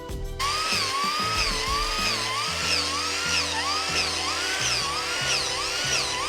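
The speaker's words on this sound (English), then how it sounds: "bear with me now while I just deburr it all." A deburring tool works over stripped aircraft sheet metal on a jet tank racer build, giving a continuous high whine with repeating rising and falling sweeps over a low rumbling background, loud and steady with no talking.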